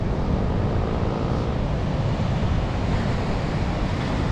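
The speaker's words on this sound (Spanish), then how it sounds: "Vamos a acercarnos a las olas." Ocean surf breaking steadily on the beach at Praia de Faro in the Algarve, a strong sea with loud, continuous washing roar and some wind buffeting the microphone, no voices.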